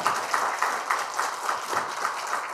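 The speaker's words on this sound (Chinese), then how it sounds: "掌声一下" A lecture audience gives a short burst of applause, a fairly faint, rhythmic patter of claps that holds steady before trailing off.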